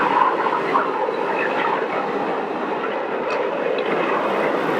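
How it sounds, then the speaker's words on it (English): A Boeing 707 jet transport airplane landing, heard as a steady broad engine roar that holds at moderate loudness from start to finish, like an archival 1950s recording. "The airplane approached from the north and touched down."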